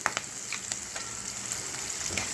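Green chillies fry in hot oil with turmeric for a cabbage curry, giving a close, steady sizzle dotted with quick crackling pops.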